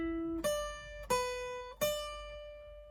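Guitar plays a beginner lead exercise on the first string, three single picked notes with slight slides between them, each ringing and decaying, clear and close with no talking.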